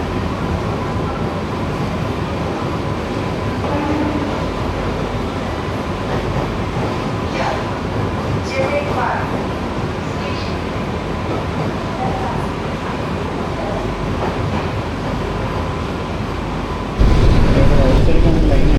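Continuous rumble of Chennai's new air-conditioned suburban electric EMU train in motion, steady and close, with faint scattered voices and a louder burst of noise near the end.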